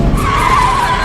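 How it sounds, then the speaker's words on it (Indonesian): Car tires skidding and screeching loudly during a high-speed chase, a sustained harsh squeal with engine noise lasting about a second before cutting off abruptly. "Loren berusaha memacu mobilnya agar dapat segera menyusul Roy"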